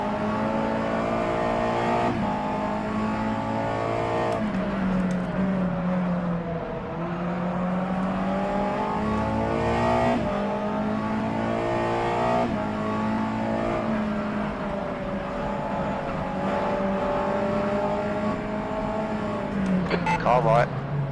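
USF2000 race cars compete at Zwartkops Raceway, with a close onboard engine droning continuously and rising and falling through gear changes. A voice is heard at times over the engine.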